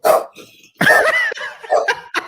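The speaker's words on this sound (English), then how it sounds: "Your doggy just wants to be part of the show." A dog barks indoors in loud, sharp bursts: a yelping bark, a pause, then several quick barks and yips with whimpering tones, close to the microphone and heard alone without talk.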